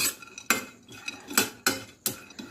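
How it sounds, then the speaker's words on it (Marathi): Cashew pieces tossed with almonds in a pan for frying, with a metal spoon clinking and scraping against the pan in a series of sharp, close taps spaced about every half second, and no voices. "आता मी याच्यातच टाकून घेत आहे दोन चम्मच काजूचे तुकडे हे आपण फ्राय करून घेऊ"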